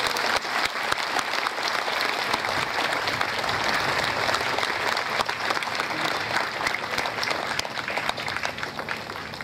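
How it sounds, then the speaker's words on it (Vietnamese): A church congregation applauds steadily for visiting bishops at a Vietnamese Catholic closing Mass in Melbourne, a dense, even wash of clapping that holds for the whole stretch with faint voices mixed in. "Xin chúng ta cho một tràng pháo tay các ngài."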